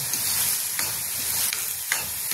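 Garlic, chilli, moong dal and tomato fry over low heat in a pan for a dry cabbage sabzi, a continuous close sizzle with a few soft stirring strokes.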